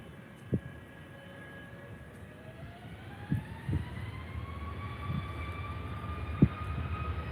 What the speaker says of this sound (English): So here we go with the Ryanair 737 MAX.